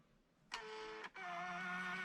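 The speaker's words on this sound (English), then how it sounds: "I'm just going to print off a couple of copies for each of the ones that I've just made" A Fomamo Bluetooth label printer runs a short whirring burst, pauses briefly, then starts again with a steady motor hum and no one talking.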